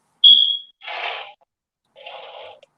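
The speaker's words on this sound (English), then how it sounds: "That smoke detector needs a new battery." A smoke detector with a low battery chirps once, sharp, loud and close, followed by two softer scraping or rustling noises in an otherwise quiet room.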